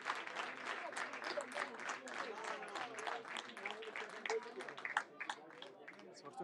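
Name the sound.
applause for a football player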